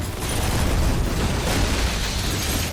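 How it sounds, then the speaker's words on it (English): A detonator-triggered explosion in an action-thriller film scene, heard as a sustained loud, broadband roaring blast with rumbling debris that holds for a few seconds before cutting off. "With the sound of the explosion"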